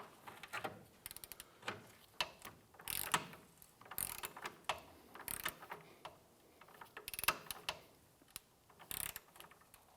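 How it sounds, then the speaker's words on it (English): Torque wrench ratcheting in a run of sharp clicks as a control arm bolt on a 2005-2007 Ford 500 is tightened to 111 foot-pounds, close and alone with no talk. "Let's go ahead and torque down our bolt here to 111 foot-pounds."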